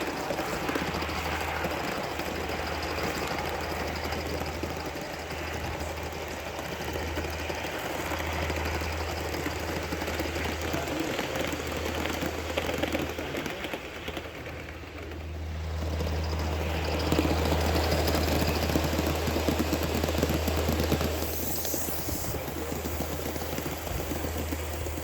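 An Aster DB62 gauge 1 model tank engine runs steadily, a continuous low mechanical hum with hissing texture that stays even for the whole stretch and swells slightly in the second half, with no talk.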